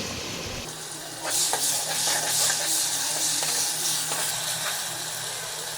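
Chopped onion and fresh ginger-garlic paste fry in hot oil as the base of a fish curry, with a loud, steady hiss that flares up after a moment and faint scraping of stirring underneath.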